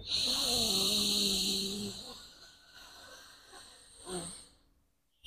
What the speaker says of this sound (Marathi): उजव्या नाकपुडीने श्वास सोडा.